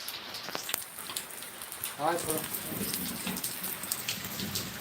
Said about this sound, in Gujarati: વરસાદ લાઈવ ચાલુ છે